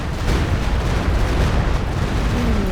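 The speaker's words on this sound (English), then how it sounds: "Another walking Stuka barrage coming through." Walking Stuka rocket barrage in Company of Heroes 2 pounding the ground, a continuous rumbling string of heavy explosions with deep booms layered over one another, loud and close, with a rising whistle near the end.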